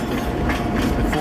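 Train rumbling past on the Tuckahoe Santa Express with a steady rolling clickety-clack, close and continuous for a brief moment.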